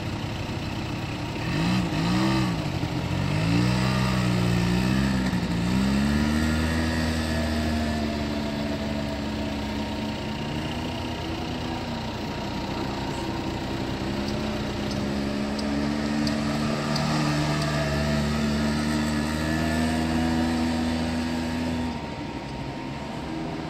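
A child's motorbike engine, with the boy riding it, revs up and down in wavering swells at first, then settles into a steady, fairly close engine drone with no talk.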